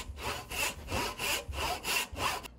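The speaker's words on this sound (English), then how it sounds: "then I'll make an angled cut down to the shoulder line along this edge" A hand saw cuts a half-lap joint in wood, making steady rhythmic strokes at about one push and pull every half second, close and alone with no talk.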